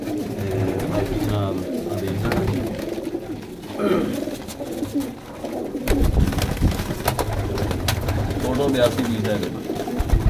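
Pigeons coo repeatedly near a trader who is selling golden pigeons, their soft throaty calls mixing with someone talking over them and some background clatter toward the end.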